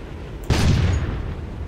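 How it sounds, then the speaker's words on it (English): One sharp, booming report from the Yak-9k's 45mm cannon in the War Thunder video game, heard from the cockpit view, with a short decaying rumble after the shot. "This is the Yak-9k. It's got a 45mm cannon."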